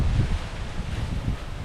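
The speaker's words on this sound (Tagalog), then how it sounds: "Lakas ang hangin, no?" Strong wind blows outdoors in Batangas, a loud, steady roar of gusts buffeting the microphone with faint rustling underneath, no voices.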